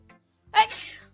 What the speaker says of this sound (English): I am sneezing